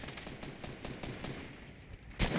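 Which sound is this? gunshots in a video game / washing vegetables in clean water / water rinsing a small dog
gunshots in a video game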